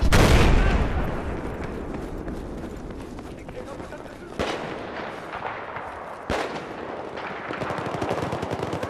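Rapid gunfire in the video game Battlefield 4, with bursts of close shots and sharp cracks over a steady rumble of battle noise. Players talk over it throughout.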